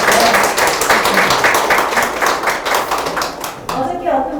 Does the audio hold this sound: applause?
yes